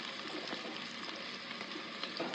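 Sliced onions softening in hot oil in a pan, a soft steady sizzle at low volume with faint crackles throughout.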